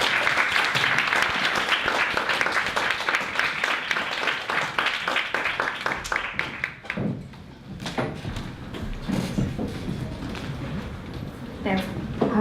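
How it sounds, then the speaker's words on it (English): A live audience claps in dense, sustained applause for about six seconds, then the clapping thins out and a few voices talk as people settle. "So a big round of applause for JUDITH KIROS and KAYO CHINGONYI."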